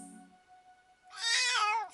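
A single loud, drawn-out cat meow close by, rising and falling in pitch, preceded by a faint tonal hum.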